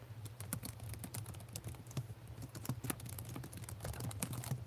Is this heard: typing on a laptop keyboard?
yes